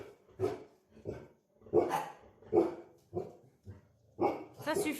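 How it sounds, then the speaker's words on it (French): Several dogs bark repeatedly at close range, loud rough barks coming in irregular bursts over a few seconds with hardly any pause between them. "On va laisser aboyer les chiens"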